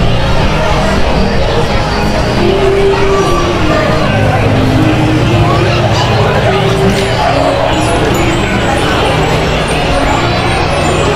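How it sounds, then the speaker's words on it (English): An antique tractor rolls along in a Christmas lighted parade in Armada, its low, steady engine drone sitting beneath a constant murmur of crowd chatter and street noise for the whole stretch. "we have the Kent family ushering in on their antique tractor, Santa Claus"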